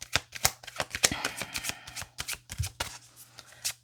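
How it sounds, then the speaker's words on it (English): A deck of Gateway Oracle cards is shuffled by hand, giving quick riffling bursts and soft card slaps in an uneven, steady rhythm, close up and alone. "I'm going to pull the... what's her name? Gateway Oracle cards by Denise Linn."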